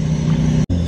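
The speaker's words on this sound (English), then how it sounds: "Oh, we got more cars, guys." Cars arrive at a private rooftop car meet, with a loud, steady engine drone and rumble filling the clip before a brief sharp dropout and a return of the engine noise.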